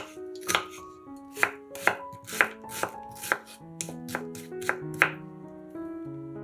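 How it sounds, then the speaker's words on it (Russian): Steady knife strokes dice an onion on a board, about two sharp chops per second, clear and close over gentle music. "Одну луковицу нарезаем кубиками."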